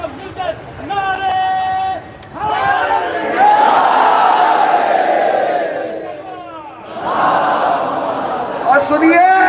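A crowd at a Shia majlis gathering in Banaras raises loud chanted slogans together in rising, overlapping bursts of many voices, with a brief pause before another swell.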